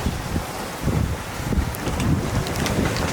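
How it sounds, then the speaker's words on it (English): Steady wind rushes and buffets at sea aboard a small sailboat on a solo Atlantic crossing, a loud, continuous roar of gusts across the microphone with no one speaking. "But at least there's a little bit more wind now."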